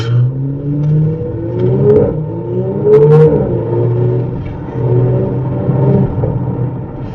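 A 2018 Audi RS4 Avant accelerating hard on a wet road with hairpin bends: loud, close engine rumble with rising revs that climb, drop at gear changes, then climb again.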